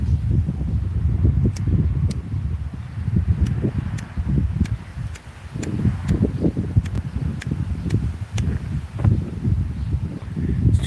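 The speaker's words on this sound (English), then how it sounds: "It's too windy out here." Wind gusting outdoors straight onto a microphone, a heavy low rumbling buffet that swells and dips unevenly, with faint ticking clicks scattered over it and no one speaking.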